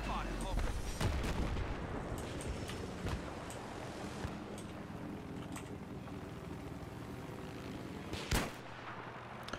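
Gunfire and explosive blasts from the video game Battlefield 3 crackle continuously in the background, with a sharp louder shot near the end, and a faint voice under the battle noise.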